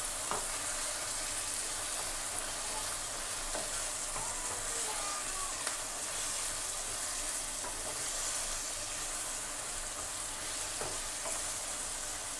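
Potato pieces seasoned with salt and chili powder fry in a pan, a steady, continuous sizzle with faint stirring scrapes throughout.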